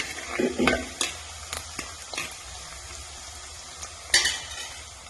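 Onion, garlic, ginger and chili fry in a pan for a sardine curry, a spoon stirring and scraping against the metal in scattered clinks over a low, steady sizzle.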